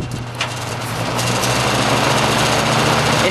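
Toastmaster box fan, cleaned and running on its high setting, gives a loud steady whir of rushing air with a low motor hum and some case rattle, continuous and close throughout.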